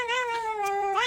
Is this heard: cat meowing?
yes